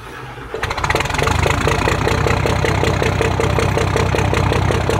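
A sailboat engine turns over and starts, then runs at a steady, loud, rhythmic idle with a continuous chugging throb.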